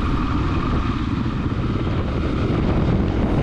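Motorcycles riding the Trans Euro Trail in Sweden, their engines droning loud and steady from close by throughout, with no talk over them.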